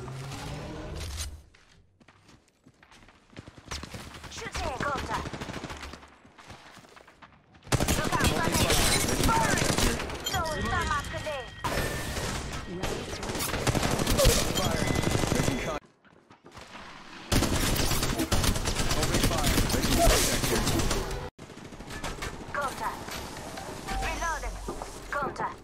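Bursts of rapid automatic gunfire rattle through a battle-royale shooter match in Apex Legends Mobile, long dense volleys broken by short pauses, with voices talking over the shooting.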